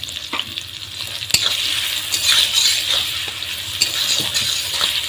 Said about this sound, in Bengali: পেঁয়াজটাকে আমি খুব ভালো করে লবণ দিয়ে ভেজে নেব